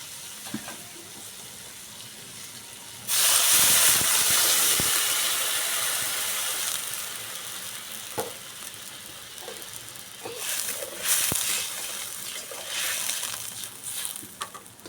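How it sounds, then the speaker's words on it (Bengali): Broth poured into a hot pan of fried ground coriander for a curry with potatoes hits with a sudden loud hiss and sizzle that tapers off slowly, swelling again in a few later bursts. "দেখো আমার কষানো হয়ে গেছে, এবার একটু ঝোল দিয়ে দেবো।"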